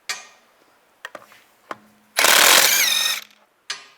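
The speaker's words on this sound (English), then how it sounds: "Take these lug studs out." Lug bolts being removed from a 2004-2010 BMW X3 wheel with a 17mm socket: a few sharp metallic clicks, then a loud burst of about a second of whirring tool noise, followed by another clank.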